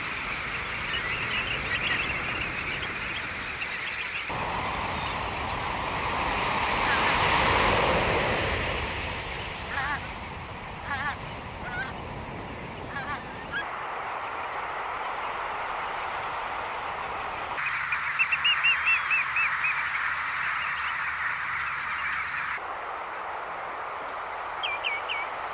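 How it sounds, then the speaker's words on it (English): A huge flock of knot birds gathering at dawn at gravel pits by the Wash on a spring tide, a broad distant roar of wings and calls with scattered chirps, shifting and ending in clearer twittering. "in the dawn light, huge numbers of knot come into the pits"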